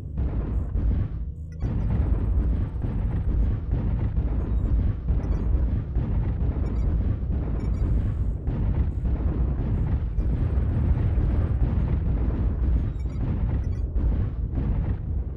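Artillery strike in the mech combat video game Hawken: a continuous loud barrage of booming explosions and rumbling blasts that goes on almost without a break.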